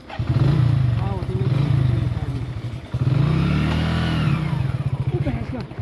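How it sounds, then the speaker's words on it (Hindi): A motorcycle engine at an army base canteen lot starts and revs in repeated surges, its close, loud, pulsing throb rising and falling with a clattering idle between bursts. "बाइक स्टार्ट नहीं हो रही आपसे,"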